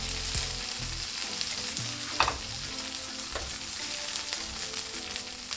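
Meatballs fry in a pan, a steady close sizzle of hot oil with occasional stirring clinks and scrapes, and no talking.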